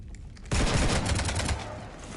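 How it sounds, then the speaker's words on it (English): Gunfire in Mass Effect 3 breaks out abruptly as a dense, rapid automatic volley lasting about a second, then fades to a lower rumble, with no voices over it. "You want to stop shooting up my ship?"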